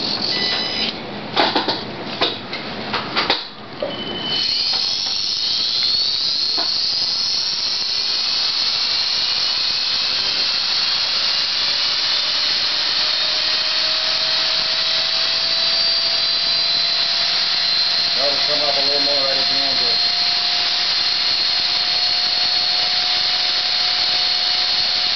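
A T-Rex 250 RC helicopter's electric motor and rotor spool up with a rising whine after a few clicks and knocks, then hold a steady high-pitched buzz close by.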